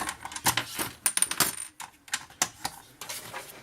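A craft knife blade is changed, giving quick close clicks and small metallic clinks and rattles in an uneven burst, with no talking.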